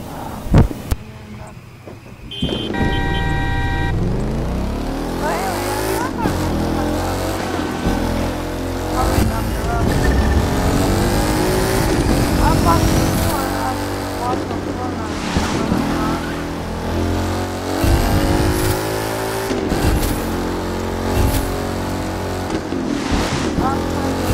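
A Ford Mustang engine revs repeatedly, its pitch rising and falling in waves, loud and close, with people talking at times.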